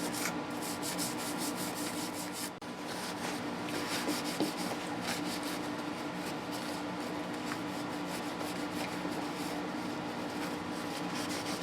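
An Ibanez S420 guitar being wiped clean with Simple Green cleaner: a continuous close rubbing and wiping over wood and finish, steady and alone with no talk.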